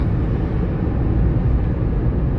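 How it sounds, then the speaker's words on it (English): An airplane passes over a motorway junction near Dublin, a steady broadband roar of engine and traffic rumble that holds at a constant level throughout without any talk. "okay, that was the plane."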